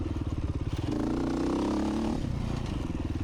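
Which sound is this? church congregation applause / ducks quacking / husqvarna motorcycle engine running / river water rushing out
husqvarna motorcycle engine running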